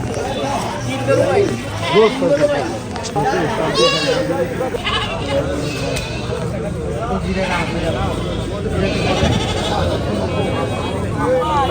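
Goats bleat repeatedly amid a busy crowd at a livestock market, their wavering cries rising over loud chatter and babble from many people.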